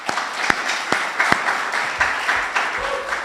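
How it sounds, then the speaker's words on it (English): An audience at an academic biomedical lecture gives a round of applause, steady mid-level clapping with a few sharper nearby claps standing out and no talking. "Let's give a round of applause to her."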